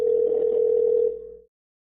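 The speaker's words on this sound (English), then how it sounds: "Pick up the phone, BD." A single sustained telephone tone hums steadily for about a second before fading out and cutting to silence, clear and alone with no voices.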